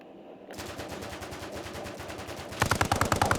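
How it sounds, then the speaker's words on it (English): A vehicle-mounted machine gun fires in the Arma video game in rapid sustained bursts, growing louder and sharper toward the end, with no talk over it. "Got a machine gun at the top, not bad."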